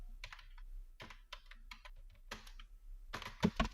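Rapid bursts of typing on a computer keyboard while writing a document in MS Word, close and fairly quiet, with irregular clusters of key clicks and short pauses between words.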